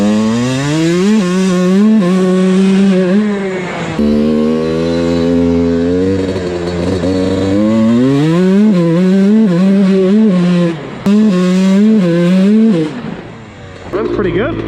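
A Kawasaki KX125 two-stroke dirt bike ridden across a lawn, its high, buzzing engine note climbing and falling through repeated revs and gear changes, loud and close, with short drops in throttle.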